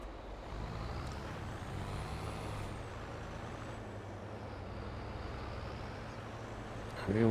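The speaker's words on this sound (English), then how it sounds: "Need to put the truck away." A farm truck idles and rumbles as it is moved and parked in a yard, a faint steady engine drone with a brief hiss and clunk near the end, no talking.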